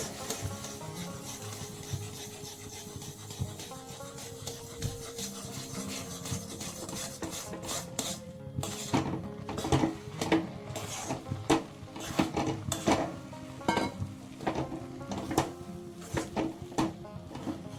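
Rice flour is worked into boiling water for chusi pitha dough, with rhythmic scraping and rubbing strokes against the pot, gentle at first and then quicker and more pronounced.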